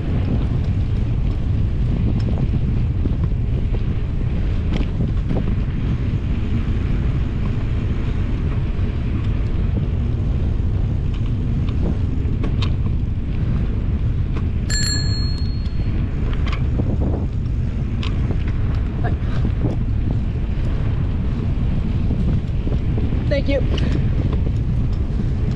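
Steady wind buffeting a microphone while cycling through Santa Clarita, a dense continuous low roar lasting throughout, with passing traffic and a brief tonal beep midway.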